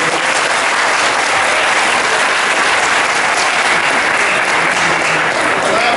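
An audience at a Cameroonian religious debate applauds steadily, a dense, loud, continuous wash of clapping that fills the whole stretch, with no speech over it.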